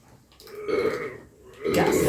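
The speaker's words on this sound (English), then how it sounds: "I wouldn't struggle to get the burps out" Loud, drawn-out burp from someone who has just chugged two litres of fizzy drink, one long belch followed by a second rising one, close and alone.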